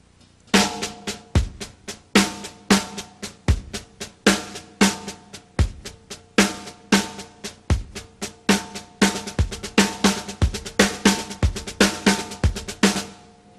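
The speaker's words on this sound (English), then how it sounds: "This next example, I'll displace one of my accents with the bass drum," A drum kit plays a steady groove, with sharp, even cymbal and snare strokes and accents moved onto the bass drum, giving recurring heavy low thumps. It is close and loud, played alone with no voices.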